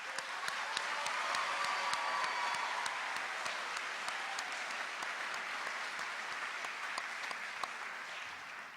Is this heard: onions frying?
no